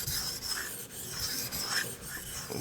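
A knife blade is stroked repeatedly across a coarse sharpening stone, giving steady rasping scrapes in an even back-and-forth rhythm, close and continuous with no talking.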